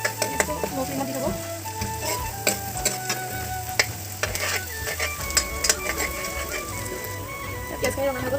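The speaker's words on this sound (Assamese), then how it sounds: "পিঁয়াজখিনি অলপ ৰঙা কৰি ভাজিব লাগিব, ৰঙা হোৱাকৈ পিঁয়াজটো ল' ফ্লেমত দি থ'ব।" Onions frying in a pan over a low flame, giving a steady sizzle under ongoing talk and music, with occasional stirring clicks and scrapes.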